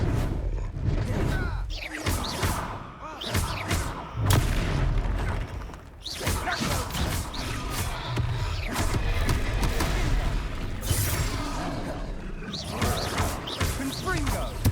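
Booming fire-spell blasts and heavy thuds from the Confringo spell in Hogwarts Legacy, loud and continuous amid chaotic battle noise, with voices speaking throughout.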